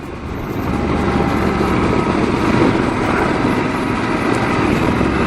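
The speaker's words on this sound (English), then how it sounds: "I like the powerful sound of the engine." A Yamaha XT 1200 Super Tenere motorcycle engine rumbles in a loud, steady, close drone that rises slightly in the first second, then holds a dense, throbbing roar mixed with wind noise.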